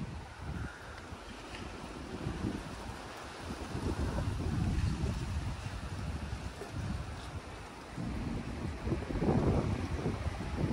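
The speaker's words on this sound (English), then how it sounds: "Here comes another gust." Strong gusting wind during a wind warning in Henderson, Nevada, buffeting the microphone with a heavy low rumble that surges and eases in waves, loud and close, with no talking.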